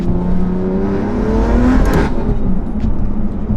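Varis widebody BMW M4 with a loud exhaust idling and blipping in efficient mode, a steady deep drone that swells into a brief rev near the middle before settling back to a heavy rumble, close and loud throughout.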